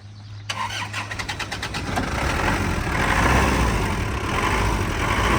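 A car engine cranks with a quick rhythmic starter chatter, then catches and roars up into a loud, steady running rumble close by.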